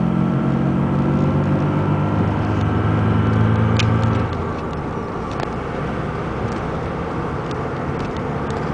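A 2002 VW Beetle TDI with a stick shift on a test drive, a worn passenger-side front wheel bearing droning under steady road and engine noise, the hum dropping away partway through.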